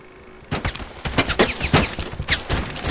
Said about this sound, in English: And I get killed by a carbine, an M4.